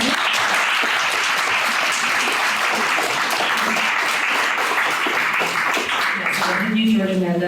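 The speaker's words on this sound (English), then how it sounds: "If we can give them a round of applause." Sustained applause from a crowd for three panelists at an Oxford forum, dense clapping filling the whole stretch, tapering slightly near the end as a voice begins.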